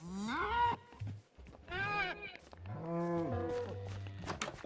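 Cows in the Minecraft video game give several drawn-out moos one after another, loud and close, with short pauses between calls and no talk over them.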